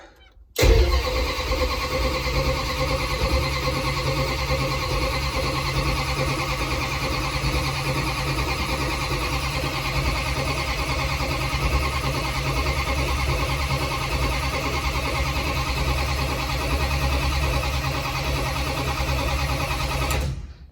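A car engine cranks briefly and catches, then idles loud and steady right up close for about twenty seconds.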